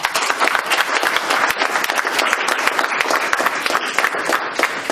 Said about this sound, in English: Give an applause, please.